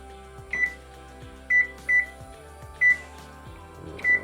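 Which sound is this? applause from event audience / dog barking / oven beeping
oven beeping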